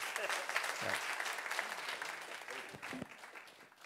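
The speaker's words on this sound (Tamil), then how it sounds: "இன்னொரு பெரிய கைதட்டு கொடுப்போம்" Applause from a crowd at an India Independence Day celebration, steady and fairly loud throughout, with a few voices calling out near the end.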